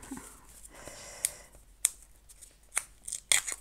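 Scissors snip through paper in a quiet room, a series of short, crisp cuts spaced irregularly, with a few quick snips close together near the end.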